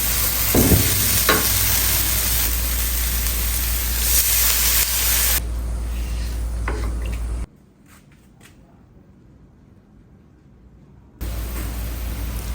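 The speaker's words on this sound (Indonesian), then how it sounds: "Setelah kita blender halus, kita tumis." Blended spice paste with lemongrass and bay leaves sautéing in a pan for a catfish dish, a loud steady sizzle and hiss with some stirring, dropping to near silence midway before the frying returns.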